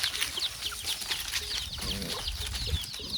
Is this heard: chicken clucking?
yes